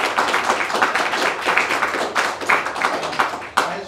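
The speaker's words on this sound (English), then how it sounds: "I just want to give them a round of applause." Audience applause at an Australian Labor Party funding announcement, a steady wash of many hands clapping close by for about four seconds, with a few louder individual claps standing out.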